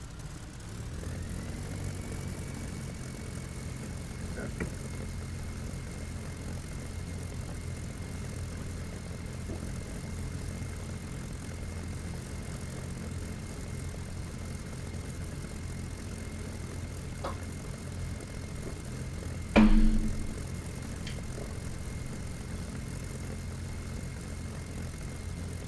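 Steady drone of a WWII aircraft engine running on the ground while rearming in a flight simulator set on a rainy Normandy server, holding a constant tone with one brief louder burst near the end and no voices.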